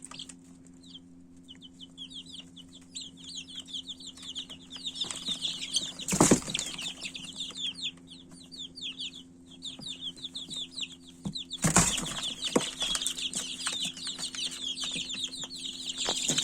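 Three-week-old Rhode Island Red chicks cheep and peep continuously in a busy chorus, with low steady hum underneath and two brief bursts of louder flapping or scuffling.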